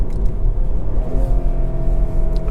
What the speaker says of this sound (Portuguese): Vocês ouviram que agora ele deu uma aceleração interina automática